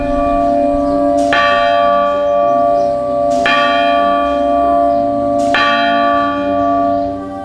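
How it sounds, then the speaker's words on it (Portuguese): Large bronze bells in the tower of the main church of Santa Cruz das Palmeiras, São Paulo, struck three times at slow, even intervals, each stroke ringing loud and close with a long shimmering hum that carries between strikes. "Nossa equipe subiu até chegar onde ficam os 4 grandiosos sinos"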